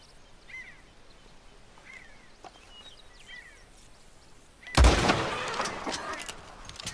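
A single loud bolt-action rifle shot in the video game Red Dead Redemption 2 cracks out midway and rings off in a fading tail, with faint birdsong chirping in the quiet before it during a hunt.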